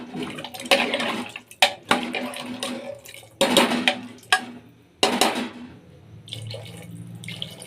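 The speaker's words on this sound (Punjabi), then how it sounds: "ਬਸ ਇੰਨਾ ਕੁ ਪਾਣੀ ਆਪਾਂ ਪਾਉਣਾ ਹੈ ਦੇਖ ਲਓ" Water splashing and pouring into a cooking pot in several gushing bursts, stopping and starting, close and fairly loud, while making potato and chickpea curry.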